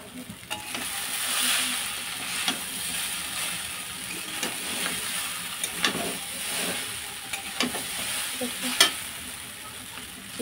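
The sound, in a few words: stirring chicken chow mein with all ingredients in a pan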